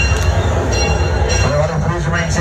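A moving train rolls along the track with a steady, loud rumble and faint wheel squeal, while a voice speaks over it.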